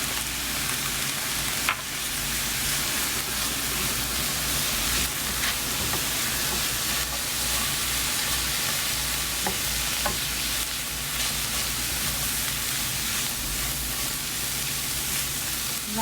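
Shrimp tossed with paprika, chili and turmeric powders fries in a pan, giving a continuous dense sizzle with occasional spatula scrapes and ticks, close and steady throughout.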